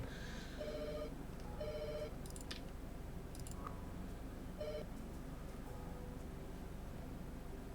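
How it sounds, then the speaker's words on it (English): A telephone rings in repeated two-part electronic trills over a steady background hiss, with a few extra beeps between the bursts; the ringing stops after about five seconds. "oh dear, the phone is ringing."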